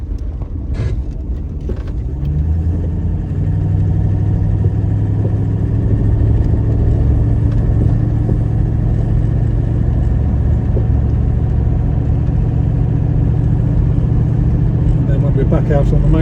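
A 1963 Daimler 2.5 V8 automatic car drives along with a steady low engine drone that rises slightly, heard from inside, with someone talking over it.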